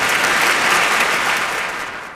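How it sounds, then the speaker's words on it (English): Studio applause on a sports talk radio livestream, a brief burst of steady, dense clapping that holds evenly for about two seconds before tapering slightly. "Give him a round of applause."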